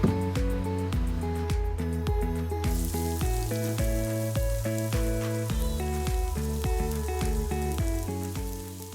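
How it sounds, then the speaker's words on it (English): Finely chopped onions sauté in hot oil for a vegetable seekh kebab mixture, a continuous sizzle running under louder rhythmic background music throughout. "Saute the finely chopped onions."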